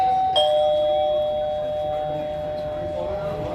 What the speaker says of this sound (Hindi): इसी बीच दरवाजे पर घंटी बजती है।